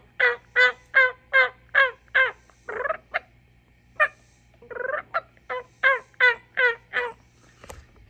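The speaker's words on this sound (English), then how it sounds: "Four big, beautiful gobblers over there this evening." Four turkey gobblers gobble outdoors in the evening, loud repeated bursts in quick rhythmic series with a short pause midway, fairly close, with no talking.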